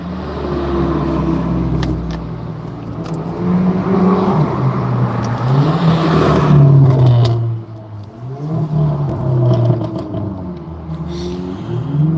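Cars rev and drive past at a car meet, with engines rising and falling in pitch over a continuous road rumble, loud and close throughout.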